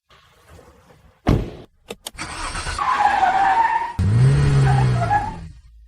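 A car taken for a test drive after its outer CV joint was replaced: a door thumps shut, then the engine starts and revs up loudly, with tires squealing as the car pulls away close by.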